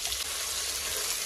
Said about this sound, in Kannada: ಚೆನ್ನಾಗಿ ಫ್ರೈ ಮಾಡಿಕೊಂಡ್ರೆ ಈ ಟೊಮ್ಯಾಟೊ ಎಲ್ಲ ಫ್ರೈ ಆದಮೇಲೆ